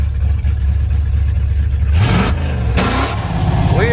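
An engine fitted with a Holley 4-barrel carburetor runs at high idle, a loud, steady, close rumble throughout, with a voice talking over it in the second half.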